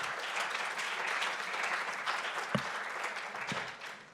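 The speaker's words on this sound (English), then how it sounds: "One more round of applause for Dagan and Saleh." A conference audience at the 2024 UN General Assembly applauds steadily, a dense wash of clapping that holds for several seconds with a couple of sharp louder claps cutting through.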